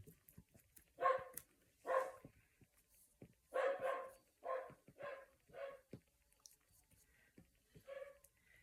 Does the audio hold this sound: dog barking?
yes